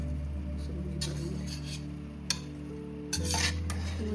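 A spoon stirs Andhra-style chicken biryani in a pot, giving soft scraping and clinks over a steady low hum and faint sizzle, with a brief louder clatter near the end.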